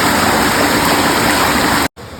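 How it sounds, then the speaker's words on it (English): Loud, steady roar of rushing water from the Vajrai waterfalls and a stream near Satara, dense and unbroken close by, then cutting off abruptly near the end. "the sound of the waterfall grew louder"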